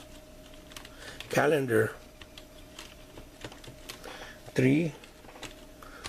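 Keyboard typing on a computer, a steady run of light clicks throughout, with two short bursts of talk in between.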